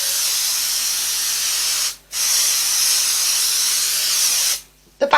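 Spray baste aerosol hissing onto quilt batting in two long continuous bursts, the first about two seconds and the second over two more, separated by a short pause, loud and close, ending with a faint clatter.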